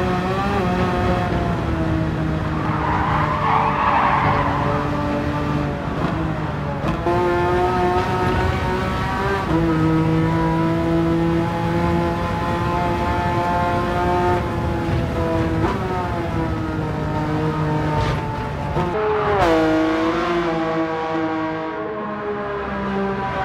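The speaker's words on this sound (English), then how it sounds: "who doesn't want a 450 horsepower and 300 km per hour Samba bus going" A modified VW Samba bus with a swapped 450-horsepower engine races the Nordschleife in Gran Turismo 7, its loud, sustained engine note rising and falling through repeated revs and gear changes, with no talk.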